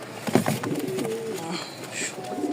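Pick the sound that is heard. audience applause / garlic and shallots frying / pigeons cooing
pigeons cooing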